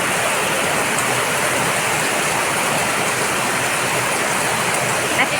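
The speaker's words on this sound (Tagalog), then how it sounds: "Narinig nyo ba yung ingay ng ulan?" Heavy rain pouring down at night around a home, a loud, dense, unbroken hiss of falling water that holds steady throughout without any voices.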